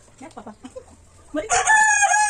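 A native country chicken gives a few soft clucks, then breaks into a loud, drawn-out crow close by.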